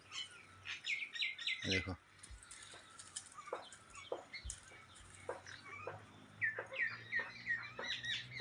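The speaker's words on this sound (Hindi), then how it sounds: "ये देखिए बहुत चिड़िया है।" Sparrows and other birds in a village home garden chirp in repeated bright bursts with occasional wing flaps, near and moderately loud, while a person speaks briefly.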